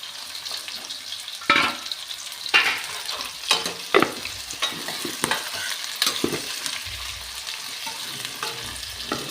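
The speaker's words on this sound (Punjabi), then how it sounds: "ਆਪਾਂ ਜਿਹੜੇ ਵਿੱਚ ਪਿਆਜ਼ ਐਡ ਕਰ ਦਾਂਗੇ ਪਿਆਜ਼ ਸਾਰੇ ਵਿੱਚ ਐਡ ਕਰਕੇ" Chopped onions frying in a pan for a carrot and potato sabzi, a close, busy sizzle broken by repeated sharp scraping strokes as a spoon stirs them.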